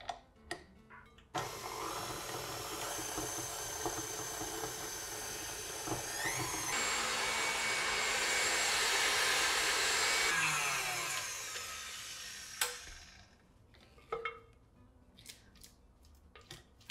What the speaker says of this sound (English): My shortening, and I'll just cream everything together.